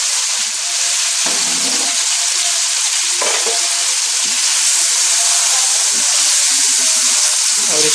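Stuffed green chillies filled with keema fry loudly in a pan, giving a dense, steady hiss and crackle with faint stirring scrapes underneath and no voices.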